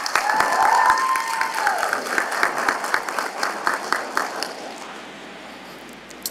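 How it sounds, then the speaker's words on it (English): A ceremony audience at a leadership and service awards event breaks into sustained clapping with some cheering and a brief whistle-like tone early on, loud at first and then gradually thinning and fading out. "Give Sadie one more round of applause"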